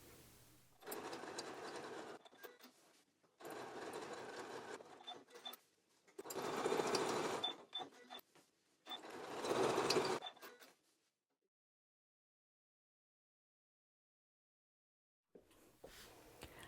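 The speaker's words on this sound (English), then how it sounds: "I just free motion quilted the top and the batting, not the backing." A sewing machine free motion quilts a fabric top and batting in four rapid stitching bursts of one to two seconds each, separated by short pauses, then a long silence before it starts again, close and moderately loud.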